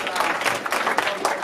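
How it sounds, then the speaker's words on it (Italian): Brief burst of clapping and cheering from a group at an Italian hip hop writing workshop, lively and close, with scattered voices mixed into the crowd noise. "Fate un applauso a Isabella!"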